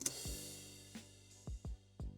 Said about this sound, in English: And then we have a more traditional crash